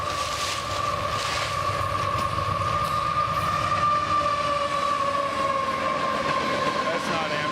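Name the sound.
train passing close by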